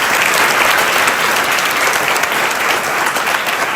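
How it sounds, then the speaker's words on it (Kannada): An audience at a school event gives loud, dense applause for an elderly couple being honored. The clapping is close and sustained, with no talking over it. "ಅವರಿಗೆ ಜೋರಾಗಿ ಚಪ್ಪಾಳೆ ತಟ್ಟಣ"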